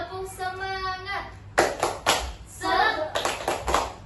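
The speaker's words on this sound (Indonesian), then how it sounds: "Biar lebih semangat lagi, kita tepuk semangat dulu yuk." Classroom children doing the 'tepuk semangat' clapping chant, a teacher's voice leading before bursts of rhythmic group clapping and shouted chanting from the kids.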